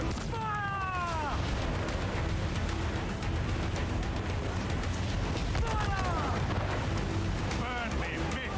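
Ship cannon fire in the Assassin's Creed 4 Black Flag video game, a steady barrage of booming blasts with crackling impacts over a roaring sea-battle backdrop, loud and close, while crew voices shout over it.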